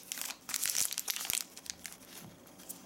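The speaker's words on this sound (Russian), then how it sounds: "в обычном пакетике тут обычный шарик." A plastic packet of bound tea is crinkled and handled close up, with quiet irregular rustling and crunching bursts that are loudest in the middle and then fade to lighter crackles.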